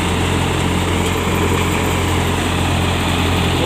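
A wheat thresher powered by a Farmtrac diesel tractor runs continuously, a dense, loud mechanical drone and whirr holding steady throughout with no pauses, close by on a farm.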